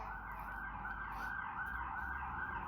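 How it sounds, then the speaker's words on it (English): An emergency vehicle siren wails steadily in the background, a continuous rising and falling tone that holds at a moderate distance for the whole stretch, with no talking over it. "Sorry about the sirens."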